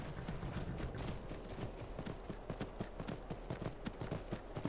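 Horse hooves clip-clop steadily on the ground in the video game Skyrim, a close, regular trotting rhythm of many short hoof strikes with no speech.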